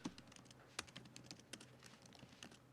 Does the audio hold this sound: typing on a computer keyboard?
yes